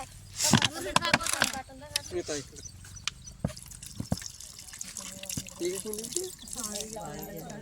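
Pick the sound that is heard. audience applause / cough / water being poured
water being poured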